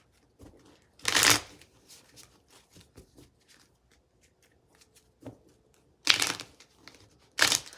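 Tarot cards being shuffled for a reading, a few distinct riffling bursts with quiet pauses between them, close and crisp.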